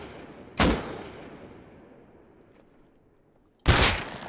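Two sharp, loud gunshots sound in the video game Rust, roughly three seconds apart, each followed by a long, fading echo tail over quiet background.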